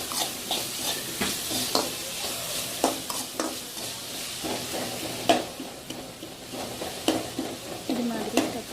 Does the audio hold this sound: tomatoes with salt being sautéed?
yes